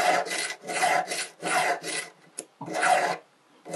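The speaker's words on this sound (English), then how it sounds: "This is a coarse emery stick." Rhythmic rasping strokes of a coarse, roughly 800-grit emery stick filing a silver cut-out necklace piece, close and crisp, in even back-and-forth bursts with brief pauses between.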